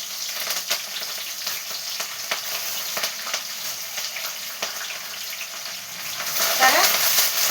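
Onions, dried red chillies and curry leaves sizzle steadily in hot oil in a pan, a close, continuous frying hiss with occasional stirring scrapes.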